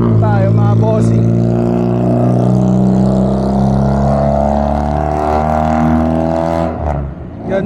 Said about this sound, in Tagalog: Ingay ng kotse.